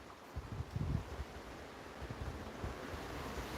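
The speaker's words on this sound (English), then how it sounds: "considering how windy it is today" Gusty wind blows outdoors during a beehive inspection, a steady broadband rush buffeting the microphone with stronger low gusts early on. No one speaks.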